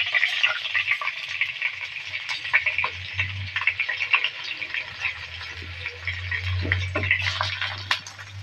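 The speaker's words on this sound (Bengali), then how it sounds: "তেল গরম হয়ে গেছে, এখন আমি দিয়ে দিচ্ছি চাউলগুলো" Washed rice frying in hot oil for a Bengali milk pulao, giving a steady close sizzle with crackling pops and stirring scrapes throughout, and no voices.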